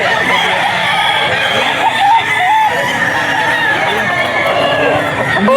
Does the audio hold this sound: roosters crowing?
yes